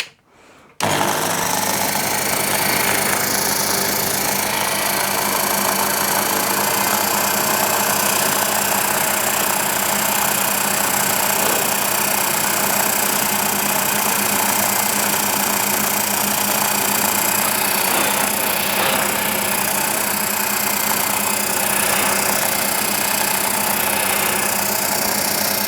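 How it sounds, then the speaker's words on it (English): A Sherline mill spins up and runs steadily while drilling a small hole in a brass plate, a continuous close whining motor hum with a faint rhythmic undertone lasting throughout after a sudden start. "we'll just crank up the Sherline and get that little hole drilled"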